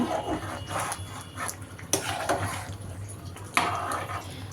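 Beef and winter vegetable khichuri with homemade ghee being stirred in a pot, scraping and clinking of a spoon against metal in a few uneven strokes with two sharper knocks, close and moderately loud.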